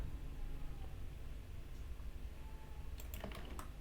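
A few quick computer keyboard key clicks near the end of a faint, steady background hiss during Blender modelling work.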